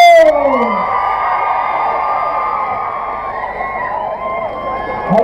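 A large outdoor crowd at a Christmas lights switch-on in Barnstaple cheers for the vocal group The OverTones, a sustained wash of shouting and whooping with high screams from the crowd.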